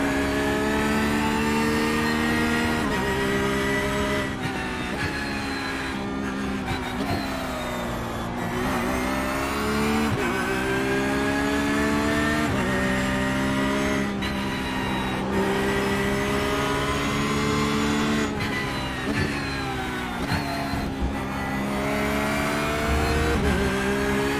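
An IMSA race car engine at Road Atlanta drones loudly and continuously, rising and falling through upshifts and downshifts as it laps the circuit, close and dominant throughout.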